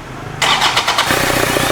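A Toyota Vigo engine is started. Silence gives way to a brief cranking burst, then the engine catches and settles into a loud, steady idle close by.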